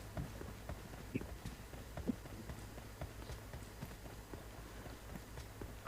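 Quiet, rhythmic hoofbeats of a horse in a video game clop steadily at a galloping pace, faint and somewhat distant, with a low hum underneath.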